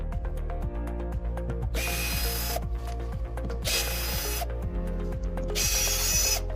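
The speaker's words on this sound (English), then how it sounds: "Remove the 12 screws on the 4 sides of the bottom." Power drill backing out screws from the bottom panels of a wooden machine crate, with repeated ratcheting whirrs in short bursts, separated by brief pauses and clicks, loud and close.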